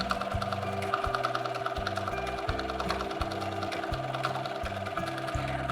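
A sewing machine quilting a ribbon candy motif runs steadily up close, its needle hammering in a fast even rhythm with slight shifts in pitch as the stitching speed changes.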